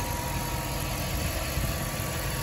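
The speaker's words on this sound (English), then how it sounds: "And here with the engine. As you see, it's running really smooth." A 2007 Jeep Commander V8 Hemi engine idles steadily and smoothly, low and even with a faint constant hum, no voices.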